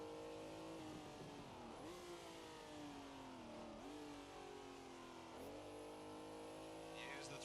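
A Ferrari 330 P4 race car drifts in Assetto Corsa, its engine revving and wailing continuously with rises and dips in pitch as the throttle is modulated, loud and close throughout.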